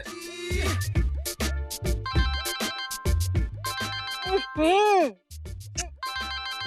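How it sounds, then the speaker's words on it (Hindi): A melodic phone ringtone with repeating tonal bursts plays under music and dialogue, fairly loud and close. "फोन आ गया।"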